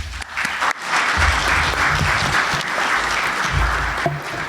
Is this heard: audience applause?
yes